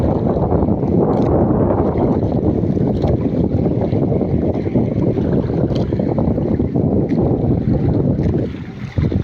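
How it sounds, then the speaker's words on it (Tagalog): Strong southwest monsoon wind (habagat) roaring steadily across a coastal shore, a dense, continuous gusting rush with broadband buffeting on the microphone, loud and unbroken for the whole stretch, easing briefly near the end. "Malakas yung habagat dito sa amin mga sangkay."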